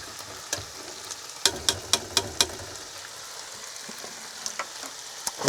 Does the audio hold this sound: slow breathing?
no